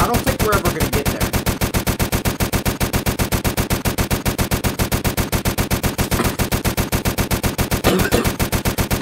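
An extremely rapid, unbroken burst of machine gun fire from a 250-round weapon in a video game, with even, dense shots running nonstop for the whole stretch, loud and close, with brief voice-like blips.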